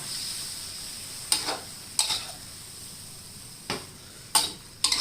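Noodles with pork stir-fried in a pan, a steady low sizzle broken by several sharp clicks and scrapes of a utensil against the pan.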